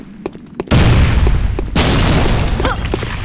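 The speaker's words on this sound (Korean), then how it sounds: "수민! 수류탄" A loud grenade explosion in the Korean online shooter Sudden Attack, a heavy boom after a few light clicks, followed by a long rumbling roar and a second blast.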